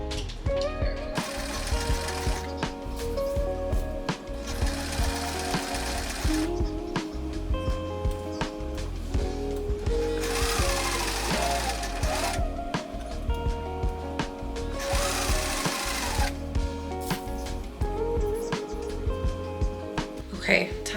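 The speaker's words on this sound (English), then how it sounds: "I just sewed the sides and the back seam" A sewing machine stitches the side and back seams of a baby onesie, running in long steady buzzing bursts with short pauses, over a constant tonal background.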